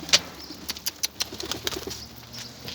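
Twenty-day-old young pigeons flutter and flap their wings close by, a burst of quick wingbeats followed by a run of soft flaps and faint calls.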